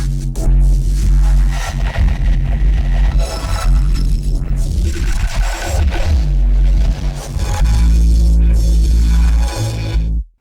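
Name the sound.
song resampled through Neuro bass generator rack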